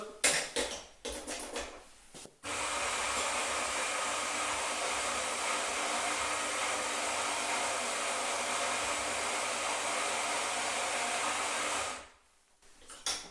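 A Lelit PL82T grinder grinds coffee in one continuous loud whirring run of roughly ten seconds, then winds down, with a few brief handling clunks before it starts.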